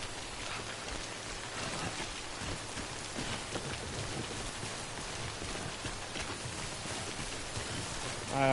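Steady, dense rain falls in Death Stranding, a constant hissing patter on surfaces that holds at an even level, with a faint low rumble beneath and a brief louder swell at the very end.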